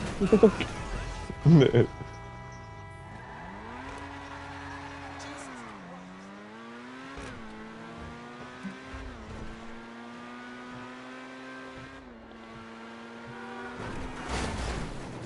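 Video game car engine revving and shifting pitch through gear changes, with tire squeals and a loud burst near the start, running steadily under occasional talk.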